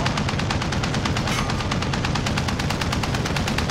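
Sustained rapid automatic gunfire from a video game shootout in a single unbroken, loud, close burst of evenly spaced shots with no talk over it.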